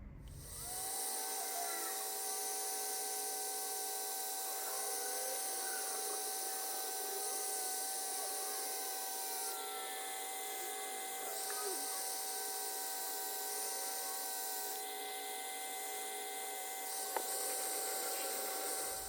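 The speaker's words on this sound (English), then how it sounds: "go get a heat gun and sort of heat this up a little bit" A heat gun blows over a thrown clay bowl made from 8 lb of clay, a steady, loud whining roar with constant tonal hums that runs unbroken for the whole stretch.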